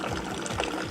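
Moroccan tea poured from a height into a glass, a brief, steady splashing stream, close and fairly soft.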